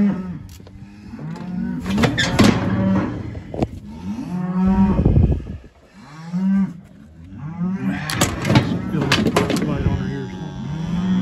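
Cattle and calves in a working pen low and moo repeatedly, several loud, drawn-out calls close by, with clanking and rattling of metal gates and equipment between them.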